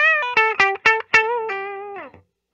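A Gibson Custom Shop 1964 Firebird electric guitar played through distortion, a short run of picked notes and chords with a bright, buzzy harmonic tone, each attack cut off crisply before a final sustained note fades out, alone and close.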